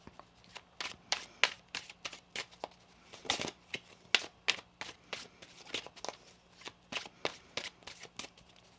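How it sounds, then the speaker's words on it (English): A deck of cards is shuffled repeatedly, crisp riffling bursts in uneven quick succession, close and clear in a quiet room. "One more shuffle here."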